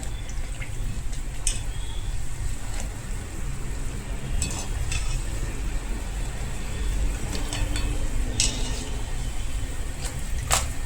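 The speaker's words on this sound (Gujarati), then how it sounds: "બધી પાપડી આપણે તળી લેશું." Rice flour papdi frying in hot oil, a steady dense sizzle and crackle going on throughout, with brief sharper pops and clinks scattered over it.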